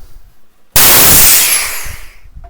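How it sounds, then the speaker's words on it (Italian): After a near-silent start, a compressed air hose on a workshop reel is unplugged from the compressor and releases a sudden loud rush of air that sustains for over a second, then tapers off. "Quando staccherete il tubo dal compressore sentirete una fuoriuscita di aria copiosa"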